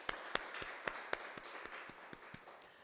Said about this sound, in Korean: 여기까지 인도하신 우리 하나님께 영광의 박수를 올려드립니다.